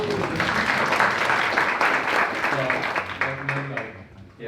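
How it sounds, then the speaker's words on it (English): An audience bursts into steady applause at an industry gathering, a dense wash of clapping that holds for several seconds before thinning out at the end. "Round of applause."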